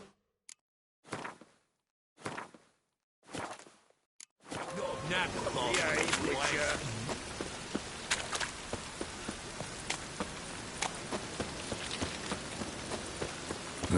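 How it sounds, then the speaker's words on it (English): Rain falls in The Witcher 3 video game, a steady dense patter that begins abruptly after a few short sounds and continues as a broad hiss, with scattered drop taps and voices talking. "Looks like rain."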